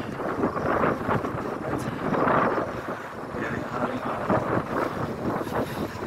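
Strong wind buffets the microphone during a bike ride in a continuous, gusty roar with rumbling low noise, as if moving quickly outdoors.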